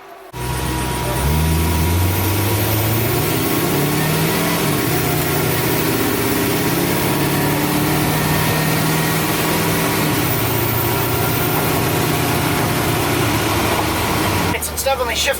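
An LS-swapped Chevrolet C10 truck engine runs loud and close, revving up smoothly as the transmission shifts through gears, a sustained throaty drone that cuts off abruptly at the end.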